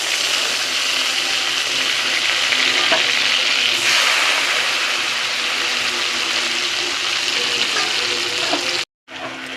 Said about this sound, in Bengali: কিশমিশ কাজুটাও ভাজা হয়ে গেছে, নামিয়ে নেব।